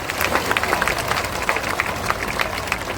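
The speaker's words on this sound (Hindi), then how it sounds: "लेकिन ताली बजा दीजिए" An audience at a political rally in Bihar claps in a scattered, moderately loud burst of applause that continues steadily, with some voices mixed in.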